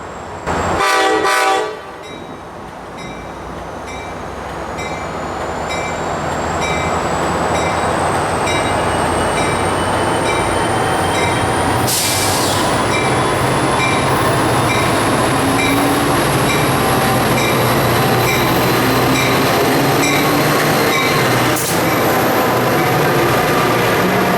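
Tri-Rail train led by F40 locomotives in the classic paint scheme rolls past in South Florida, a short horn blast opening before a long, steady, loud rumble of passing cars with high squealing wheel tones.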